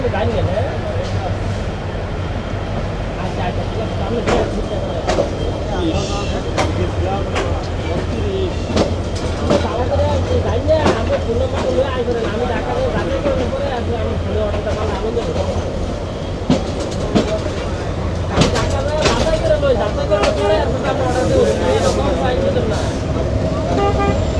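The Chattala Express, running from Chittagong to Dhaka, rolls through Airport railway station with a loud, steady rumble and repeated wheel clicks while a voice talks over it.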